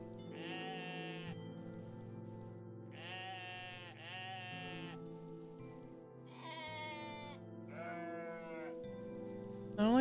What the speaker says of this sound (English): I don't like the various sheep noises.